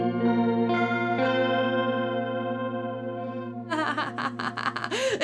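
Electric guitar through an Alexander Sugarcube stereo chorus pedal on its octave-up setting, a sustained shimmering chord followed by a quick burst of warbling, pitch-sweeping notes, close and clear without talking.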